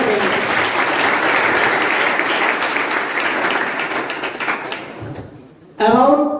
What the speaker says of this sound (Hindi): सर के लिए एक बार जोरदार तालियां बजाइए।